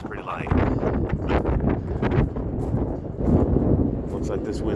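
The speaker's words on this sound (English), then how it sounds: "Looks like this wind's gonna pick up" Wind gusting and buffeting around a boat, a continuous rough roar with rustling surges, heard close to the microphone under speech.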